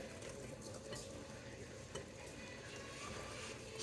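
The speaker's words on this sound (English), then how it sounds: "so we're just mixing everything." Cupcake batter is stirred in a bowl, a soft continuous scraping and swishing close by at low level, with faint clinks now and then and no talk.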